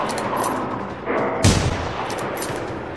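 Gunfire from a sniper rifle in the open-world shooter Generation Zero during a fight with combat robots on a farm, with a loud sharp shot near the middle over a noisy, rumbling background.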